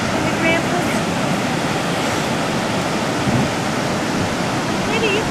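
Steady, dense roar of ocean surf, loud and continuous like breaking waves heard from a bench above the shore, with no clear pauses between swells.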